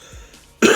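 A man coughs once, a sudden loud, harsh burst close to the microphone that cuts in near the end after a few moments of near silence.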